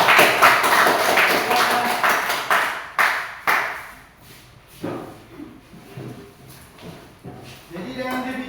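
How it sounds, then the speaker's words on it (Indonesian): A classroom of students applauds group 3, with dense overlapping clapping for a few seconds that thins into scattered individual claps and background voices. "Mari kita berikan tepuk tangan kelompok 3."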